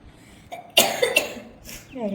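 Someone coughs close by, a few short bursts, and a voice briefly follows.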